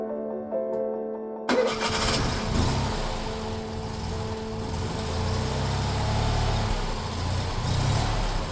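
A Fiat 126p Maluch kept inside a house room cranks and catches after a quiet moment, then settles into a loud, rough, steady idle close by.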